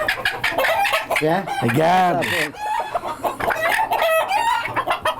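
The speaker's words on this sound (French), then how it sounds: "Ça, c'est un coq polonais." Polish chickens on a farm, a crested rooster crowing loudly at close range among repeated clucks, with a person speaking briefly over them.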